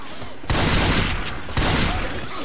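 Gunfire in a video game comes in two loud, close, overlapping bursts of rapid shots, each lasting about a second, over constant background game noise.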